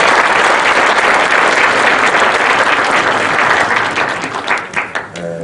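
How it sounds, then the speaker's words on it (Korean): Audience applause at a public humanities lecture held by Changwon court: a dense, sustained clapping crowd that holds steady, then thins and fades into scattered claps at the end. "이 구호가 재미있다고 생각하시는 분들은 박수 한번 쳐주십시오"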